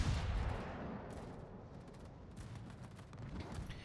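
Naval guns boom in a World of Warships battle as shells fly toward a Chapayev, a heavy opening blast followed by rolling rumble and scattered crackling impacts, moderately loud with no talk.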